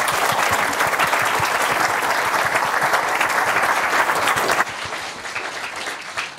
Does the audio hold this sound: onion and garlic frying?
no